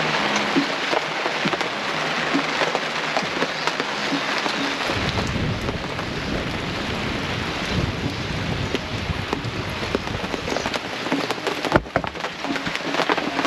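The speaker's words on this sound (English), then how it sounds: "It's raining, which I'm very excited about because I can always use more drinking water." Steady rain pours down with a dense hiss and pattering, mixed with gusty wind buffeting the microphone throughout.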